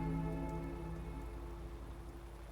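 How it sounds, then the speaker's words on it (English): Rain pouring steadily in the video game Misericorde, a faint, even hiss of falling water under a low droning music bed, with no voices. "It began to pour."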